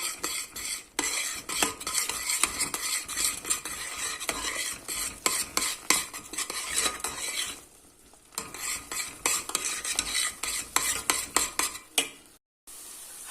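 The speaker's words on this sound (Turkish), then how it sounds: "Şöyle hızlı hızlı karıştırıyorum." A spoon stirs flour vigorously into boiling water in a pot on a low flame to make profiterole choux dough, with quick, continuous scraping and knocking against the pot, faint sizzling, and two short pauses.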